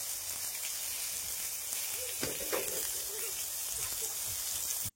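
Pointed gourd (potol) slices frying in hot oil, giving a steady, even sizzle throughout with a few soft stirring clinks midway.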